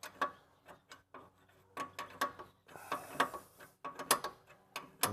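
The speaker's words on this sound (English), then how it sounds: "Now we can finish to bolt it in with a wrench." Ratchet wrench tightening a rear strut bolt on an 02-08 Toyota Camry, with bursts of quick rhythmic clicks between short pauses, close and fairly quiet, no speech.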